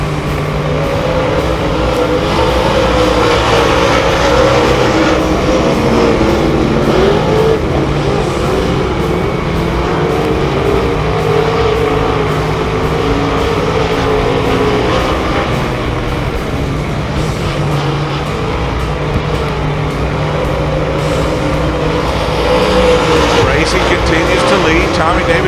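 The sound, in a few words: race cars racing at a speedway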